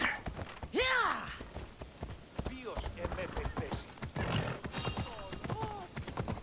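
Horse hooves clip-clop in the video game Assassin's Creed Odyssey, rhythmic close footfalls mixed with whinnies and game effects, while a voice speaks over them at times.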